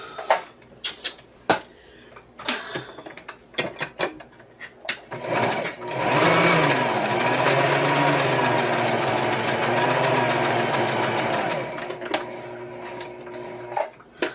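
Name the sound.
sewing machine stitching fabric for a puffy Christmas tree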